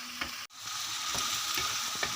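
Vegetables frying in a pan for chicken fried rice, a close steady sizzle with stirring scrapes, briefly cut off near the start and then continuing unbroken, no talking.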